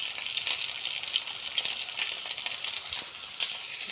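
Zucchini sizzles briefly in hot oil for a quick fry, a steady bright crackle with small pops, close and moderately loud, with no talking.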